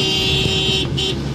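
A 2017 Corvette Z06 passes on a street in Lahore's DHA Phase 5 amid steady traffic noise, with a sustained high horn-like tone and engine hum continuing throughout.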